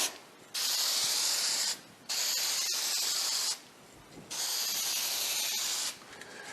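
Aerosol spray paint going onto an awning in three long, even hissing bursts of about a second or more each, separated by brief pauses with faint rattles between.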